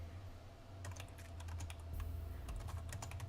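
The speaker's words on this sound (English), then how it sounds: "I'm typing as I'm talking" Quick, uneven clicking of keys on a computer keyboard, close and fairly quiet over a low background hum, with no talking.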